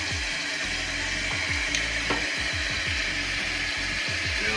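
Close, steady hiss of water refilling a toilet tank after a flush, with a new flush valve just fitted; a continuous rushing fill with low gurgles underneath and no one speaking.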